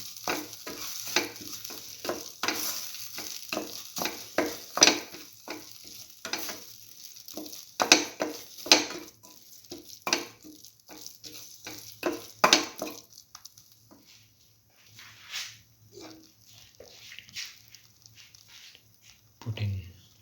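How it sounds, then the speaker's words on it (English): Mung beans and vermicelli are sautéed in a pan, giving soft sizzling with repeated scraping and stirring clatter against the pan. The activity is close and intermittent, and quiet talk can be heard underneath. "Keep on sauteing."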